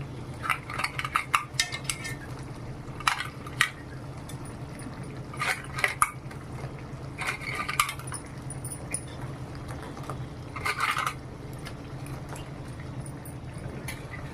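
Crab pieces being set into gravy in a cooking pot: scattered metallic clinks and scrapes in several short bursts over a steady low simmering hum, close by, with no talking.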